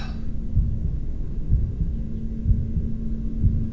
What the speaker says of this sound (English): I heard the fucking heartbeat!